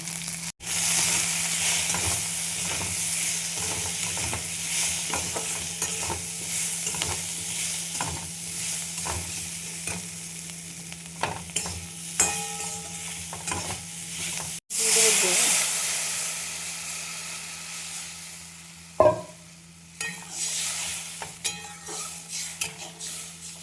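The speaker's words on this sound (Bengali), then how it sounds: "ঝোলটা ফুটছে, আমি মাছগুলোর মধ্যে দিয়ে দিলাম।" Fish curry sauce with turmeric, chilli powder and salt bubbles and sizzles steadily in a pan, a continuous close hiss broken by spoon stirs and clinks against the metal.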